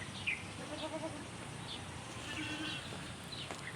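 Goat bleats on a farm, a few short nasal calls scattered over steady outdoor background noise, fairly faint and at a distance.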